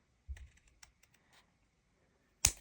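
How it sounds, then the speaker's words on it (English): Scissors trimming material in a craft setting: a few faint, scattered snipping clicks, then one sharp, louder snip at the end, close by and quiet otherwise. "If I do it with my scissors, I can do it now, can't I?"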